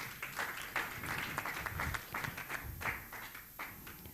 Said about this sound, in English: Please, let's encourage my panelists with a round of applause.